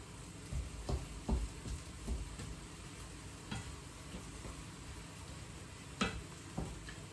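Spiced meat being stirred in a pan for aubergine lasagne, with soft scraping and clicking strokes over a quiet background sizzle, the taps irregular and fairly faint.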